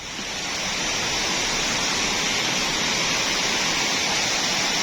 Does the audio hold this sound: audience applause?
no